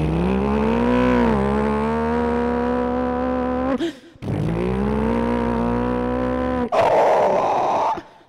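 A performer on a comedy stage mimics a car chase, voicing two long engine-like drones that bend up and down in pitch as if taking turns, each cut off abruptly, then a short breathy burst to finish.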